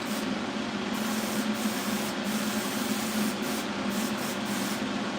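White paint sprayed onto a Luxe Idol paintball marker: a steady, continuous airbrush-like hiss held close and loud throughout, with no pauses or voices.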